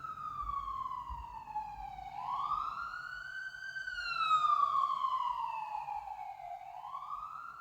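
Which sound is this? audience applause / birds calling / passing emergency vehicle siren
passing emergency vehicle siren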